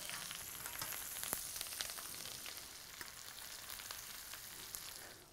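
Fresh skate fish sizzling as it fries in a pan, a steady dense crackle with scattered sharper pops, close and fairly loud throughout, no voices.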